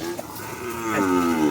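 A calf on a livestock farm lets out a single drawn-out moo, rising in strength and holding toward the end, close and clear with no talking.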